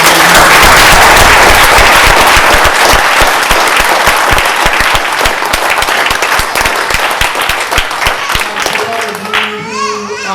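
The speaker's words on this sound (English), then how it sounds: "can we please give a round of applause for our friends?" Loud, sustained applause from the audience at a graduation ceremony in London, many hands clapping in a dense roar with sharp individual claps standing out, thinning toward the end as a voice comes in.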